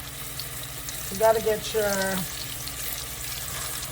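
Battered boneless chicken wings drop into hot frying oil, a brief loud burst of bubbling sizzle that settles into a steady, softer hiss, with someone speaking over the sound.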